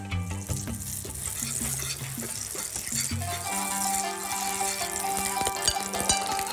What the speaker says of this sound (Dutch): gaan ons vlees kort aanschroeien